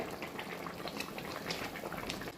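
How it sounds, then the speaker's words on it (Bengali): Chicken jhol curry boiling in a pot, a steady close bubbling and popping that carries on evenly the whole time. "ঝোলটা এখন ফুটে গেছে"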